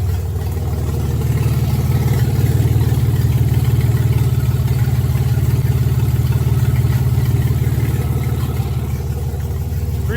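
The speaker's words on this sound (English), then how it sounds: ".3-liter Chrysler V6 out of a 92 minivan. And she's been hopped up a little bit too." A hopped-up 3.3-liter Chrysler V6 from a 1992 minivan, fitted in a small sandrail, runs steadily at a low, throaty idle for the whole stretch, close and loud with no talking.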